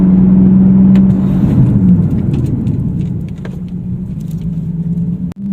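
Nissan 370Z engine droning loudly as the car drives and slows under braking while bedding in fresh front pads and rotors, a steady close rumble that eases off, then a sharp click near the end.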